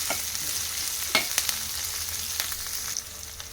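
Green chilli pieces fry in hot oil in a pan, a steady close sizzle with a few sharp pops and stirring clinks.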